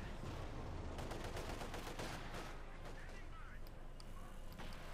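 Gunfire in the video game Company of Heroes 2 as Soviet penal troops are shot to pieces, a dense, steady rattle of rifle and machine-gun fire under an ongoing battle din, with a voice talking over it.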